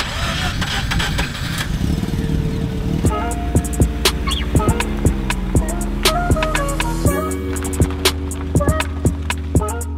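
A Mazda RX-8 rotary engine sputters and catches, then idles unevenly with a lumpy, pulsing rhythm, loud and close, with brief rev blips.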